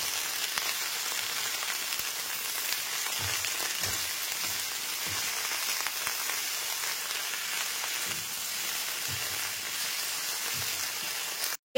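Okra cooks with salt in a pan over a low-to-medium gas flame, giving a steady close sizzle with soft, irregular scraping as it is stirred.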